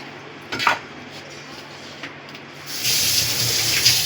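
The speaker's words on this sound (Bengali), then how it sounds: "এবার সর্ষের পেস্টটা আমি এই থালাতে নিয়ে নিচ্ছি।" Mustard paste is scraped onto a metal plate with a few clinks of utensil on metal, followed by a steadier rush of washing or running water.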